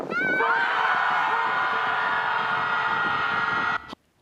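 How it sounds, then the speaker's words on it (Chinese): A crowd of dozens at a scream club lets out a sustained, loud collective scream outdoors toward Lake Michigan, holding for several seconds before stopping abruptly. "几个十人向密西根湖边大声喊叫"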